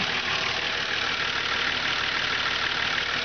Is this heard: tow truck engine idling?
yes